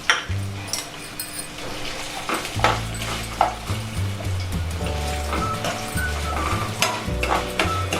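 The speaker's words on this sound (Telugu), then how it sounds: "ముందు ఫస్ట్ అల్లం వేపాలండి. నూనెలో 1 గంట నూనె పోసానండి." Ginger frying in hot oil for ginger chutney, a lively sizzle broken by repeated scraping and stirring strokes in the pan, loud and close throughout.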